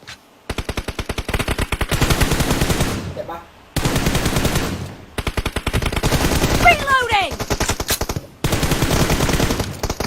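Rapid automatic gunfire from a PUBG Mobile team deathmatch, loud sustained bursts of machine-gun fire with short gaps between volleys, plus a brief whistling sweep mid-clip.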